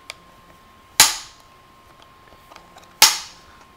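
An Otterbox Armor waterproof case for iPhone snapped shut, heard as two sharp, loud plastic clicks about two seconds apart, each decaying quickly, with faint small handling ticks between them.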